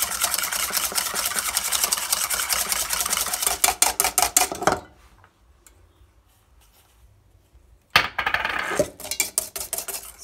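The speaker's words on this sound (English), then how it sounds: "I'm creaming the egg yolks with sugar" Egg yolks being creamed with sugar in a bowl, with a utensil clinking and scraping rapidly against the bowl, stopping for a few seconds of quiet before the whisking resumes.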